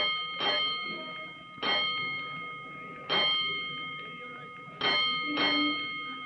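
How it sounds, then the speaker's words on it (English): An alarm bell rings inside a fire station of a 1940s engine company, sounding in four separate loud bursts spaced about 1.5 seconds apart, each with a sharp metallic onset and a ringing decay. "he hears an alarm"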